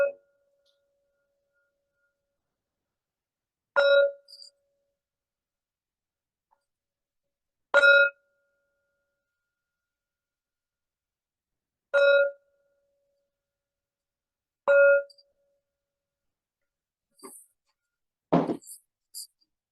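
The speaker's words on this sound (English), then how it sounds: "I am aware that the sound of the bell isn't as pretty as it could be." A meditation bell rings five times at even intervals of about four seconds, each strike a clear, short tone that decays quickly, with a brief voice near the end.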